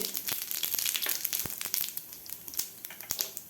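Cumin seeds crackling in hot oil alongside mustard seeds, a close, bright sizzle with quick irregular pops and spatters.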